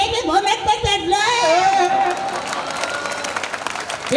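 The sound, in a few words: audience applause at poetry recital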